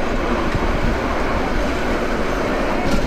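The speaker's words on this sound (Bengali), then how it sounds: "এই যে ট্রেন এখন কাজ দিচ্ছে" The Chattala Express passenger train runs toward Chattogram, a dense, continuous rumble and rattle of wheels and carriages heard from on board, steady and loud throughout.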